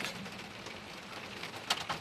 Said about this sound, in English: it's raining really hard at the moment